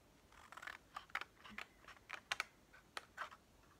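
Paper cut line by line with scissors while making a pop-up card, a run of short, crisp snips close by, alone without talk.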